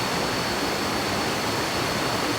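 Khlong Phlu waterfall on Koh Chang, Thailand, in a jungle setting after heavy rain, with high water crashing over rocks: a steady, loud, unbroken broadband rush with no breaks and no voices.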